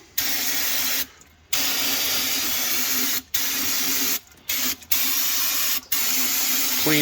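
Aerosol cleaner sprayed into the gearbox of an International Travelall during a gear oil change, a loud steady hiss in several long bursts with short pauses between them.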